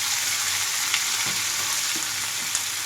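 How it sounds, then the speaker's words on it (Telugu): Tomatoes and ivy gourd fry in a tablespoon of hot oil with a steady, loud broadband sizzle. A few faint clicks from the pan come through the hiss, and nobody speaks. "ఇందులోకి టమాటో అలాగే దొండకాయలు వేసేసుకుంటున్నాను"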